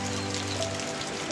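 Rain falls steadily outdoors during a journey, a soft, even hiss of drops with a low hum underneath and no voices.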